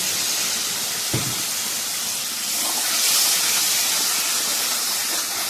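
Water poured into a frying spice masala for a prawn and pointed gourd dish sets off a loud hissing burst of steam, rising again midway, with a short knock near the start.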